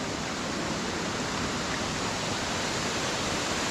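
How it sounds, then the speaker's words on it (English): Waterfall on the river at Stichill, a loud, unbroken rushing roar of falling water heard up close with no other sounds over it. "the waterfall is absolutely spectacular"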